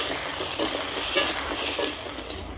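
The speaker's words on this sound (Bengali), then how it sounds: "এবার সজনে ডাঁটাগুলো হালকা করে ভেজে নিচ্ছি" Drumstick vegetable pieces lightly frying in hot oil for shukto, giving a steady close sizzle with a few soft scrapes and stirring clinks from a utensil.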